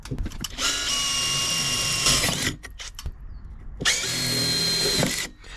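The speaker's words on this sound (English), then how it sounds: "first of all, pilot drill. This, I think, here is about a 4mm drill bit" A power drill bores a pilot hole with a 4mm bit while a campervan awning is being fitted, running in two long, close, steady bursts separated by a short pause, with no talking.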